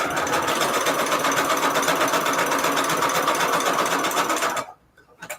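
A sewing machine runs a wide zigzag stitch through scrap paper for a junk journal embellishment, a loud, steady, close mechanical whir that continues for several seconds and then stops abruptly, leaving a couple of faint clicks.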